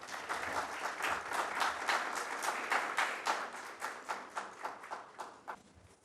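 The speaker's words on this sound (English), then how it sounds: "Ladies and gentlemen, huge round of applause for Mr." Audience at an HR summit breaks into a round of applause for a speaker, dense and sustained clapping that thins into a few slower claps as it fades.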